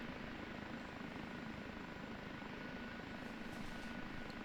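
OH-58D Kiowa Warrior helicopter engine running steadily in the DCS flight simulator, a constant loud rotor and turbine drone with no pauses.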